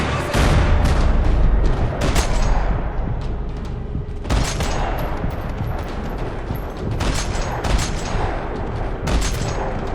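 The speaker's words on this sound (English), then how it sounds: "Another parking lot rattling with gunfire." Sustained gunfire fills a parking lot in the Max Payne 3 video game, dense rattling bursts of shots and booming impacts crackling loudly for the whole stretch.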